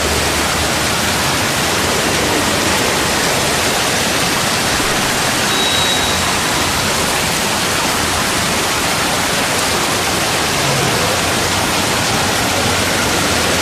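Floodwater rushing from collapsed, overflowing street drains makes a loud, dense, unbroken roar that holds steady throughout, with no voices.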